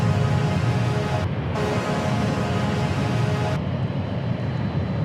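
Turkish Airlines Boeing 787 Dreamliner jet roaring past at DFW International Airport, a loud steady broadband engine rumble that fills the whole stretch, with brief dips in the high hiss.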